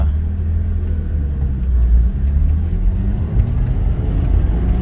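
A 1994 BMW E36 325i with a manual gearbox pulls away in first gear, its engine a steady low rumble heard from inside the car, building slightly without any sharp revving.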